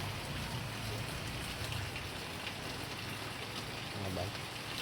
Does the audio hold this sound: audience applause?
no